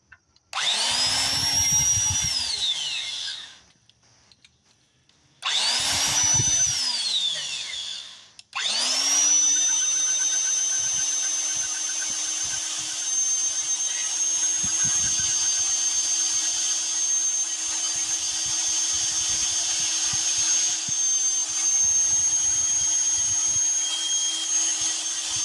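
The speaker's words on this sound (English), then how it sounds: "Now this drill doesn't have reverse, so it'd be easier if it had reverse, but let's try it." Cordless drill with no reverse, spinning a stuck part on an old outboard motor: two short whining bursts that rev up and die away, then a long steady run, loud and close with no talking.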